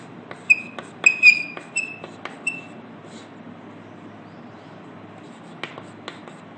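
Marker or chalk squeaks and taps on a board during a Class 12 physics lecture on wave optics, a quick cluster of sharp squeaky strokes early on, then quiet with a couple of faint taps near the end.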